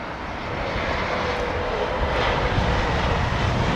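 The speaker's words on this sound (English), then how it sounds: "I love the spool up of the engines and the noise" Airliner engines spool up during takeoff at London Heathrow, a loud, broad roar that swells steadily and grows stronger over a few seconds, with no voices over it.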